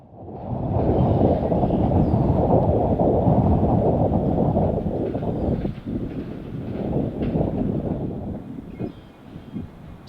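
Norfolk Southern freight train led by an SD70M-2 locomotive rumbles past outdoors with a broad, roaring wash of rail and wind noise that swells, holds, then slowly fades.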